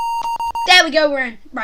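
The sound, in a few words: computer BIOS beeping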